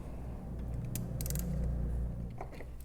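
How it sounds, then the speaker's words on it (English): A socket wrench ratchets as it loosens the terminal bolt on the car battery of a VW Passat V6, giving close mechanical clicking and creaking over a steady low rumble. "make sure that we're twisting anti-clockwise to get this bolt off"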